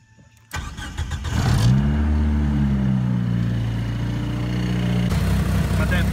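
A Mighty Max truck engine cranks and catches with a short starter whir, then revs up loudly and settles into a steady close idle, with a brief rise in revs near the end.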